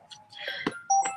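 A broken mobile phone sounds a short notification chime, two bright tonal beeps with a soft click between them, close and clear in a quiet room.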